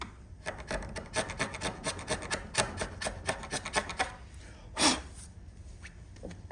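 Screwdriver edge scraping primer off a bare metal test panel, a close, rhythmic series of rasping strokes about three per second, followed by one longer scrape and then quiet.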